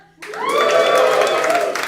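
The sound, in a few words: audience clapping for the performers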